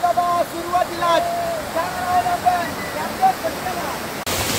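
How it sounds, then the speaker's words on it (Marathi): Bhaje waterfall pours with a strong, steady roar of rushing water close by, a continuous wash of noise, while people talk over it. "खूप जोरात पाण्याचा फ्लो आहे, खूप गार पाणी आहे"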